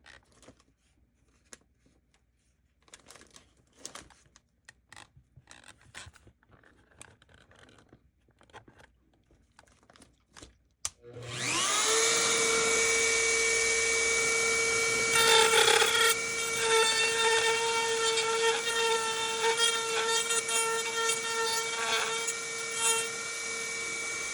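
A Dremel rotary tool grinds a plastic Darth Vader Black Series helmet, starting partway through with a loud, steady high-pitched whine and rasp that holds on continuously after quieter handling noises.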